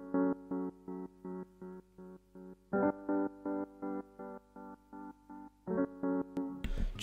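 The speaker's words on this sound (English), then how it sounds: "I used the noir pure piano, and it was the dense preset." Noir pure piano on its dense preset plays chords chopped by a stutter effect into short, evenly repeated bursts, a steady rhythmic pattern heard alone, closing with a brief noisy burst.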